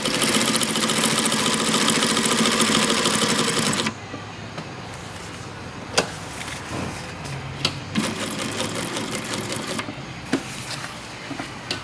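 Atlas USA AT2284 sewing machine running a 3-step zigzag stitch, its steady mechanical whir loud and continuous for about four seconds, then quieter intermittent stitching bursts and clicks.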